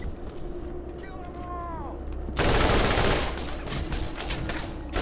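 Ajax's Spear, an Atlas combat rifle in Borderlands, opens up in a sustained loud burst of rapid gunfire after a moment of quieter game sound with a descending whine, close and continuous.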